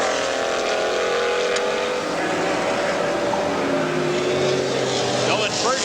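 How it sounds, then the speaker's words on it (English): Lola race cars powered by big Chevy engines race at Lime Rock in an IMSA Camel GT event, a loud continuous engine roar with shifting pitch as cars pass. A commentator talks over it. "These big Chevy engines that run these Lolas, the big Chevy engines that power these Lolas, put out a great deal of horsepower"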